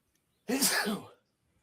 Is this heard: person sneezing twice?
yes